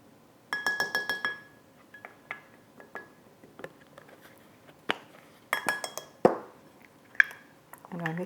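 A spoon clinks and taps against a glass bowl while confectioner's sugar and cocoa powder are mixed for marzipan potatoes, with quick bursts of bright chinks separated by short pauses.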